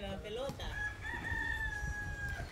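Rooster crowing nearby, a long drawn-out call that rises then holds steady for about two seconds, with a brief earlier cluck and low background noise.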